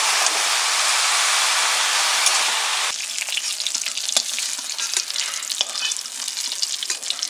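Sliced ridge gourd is added to hot oil with fried potatoes, starting with a loud, steady sizzle that then gives way to quieter crackling and scraping stirring in the pan.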